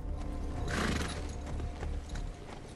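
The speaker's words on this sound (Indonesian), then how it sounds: "Dengan menunggangi seekor kuda dan ditemani seekor anjing kesayangannya, dia pun berangkat ke kota." A ridden horse clip-clops steadily at close range, its hoofbeats joined by a loud neigh and whinny partway through, with no talking.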